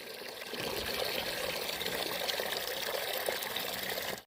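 Water poured into a container holding about 5-10 liters, a steady close rushing gush with a trickling, splashing texture that runs evenly for about four seconds and then stops abruptly, with no talking.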